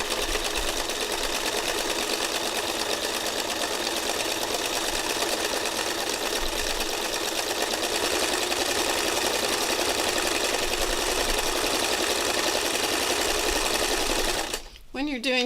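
A sewing machine threaded with regular sewing thread hums loudly and continuously during free-motion stitching, a steady close mechanical drone that stops abruptly at the end.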